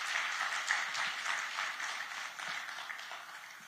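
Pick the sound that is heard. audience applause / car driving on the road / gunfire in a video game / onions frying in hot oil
audience applause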